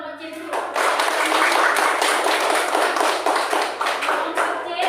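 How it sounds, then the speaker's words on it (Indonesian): A classroom group claps together, loud, close, rapid hand clapping that starts suddenly after a brief voice and continues steadily, with some uneven rhythmic tapping in the mix. "Tepuk tangan untuk kelompok C dulu."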